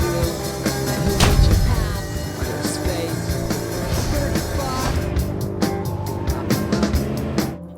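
A stolen car drives in a film scene, its engine and rolling tyres rumbling steadily and loudly, mixed with other dense sound that thins out near the end.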